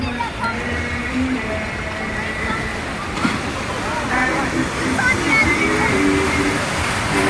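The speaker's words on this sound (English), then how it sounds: "Big ass waves today." Ocean waves at Waikiki Beach, Honolulu, near Diamond Head, rushing and crashing in a steady wash along a pier, with people talking over the surf.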